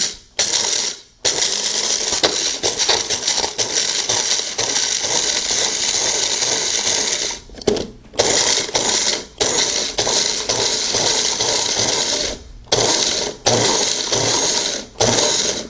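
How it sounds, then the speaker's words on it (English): A Magic Bullet blender grinds coffee beans with its blades in pulsing bursts, a loud dense rattling whir broken by several short pauses between pulses, close up with no talking. "your coffee beans are now refined into your own freshly ground coffee"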